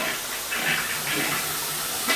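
Water rushes steadily from running taps while a toilet flush surges in a small apartment bathroom being checked for water pressure, a continuous hissing wash with a few brief swells, no talk.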